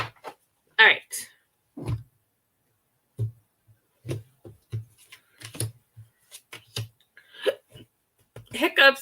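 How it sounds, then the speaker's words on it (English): Someone hiccups repeatedly during a live stream, with short sharp bursts scattered across several seconds between pauses and stretches of nearby talk. "Hiccups."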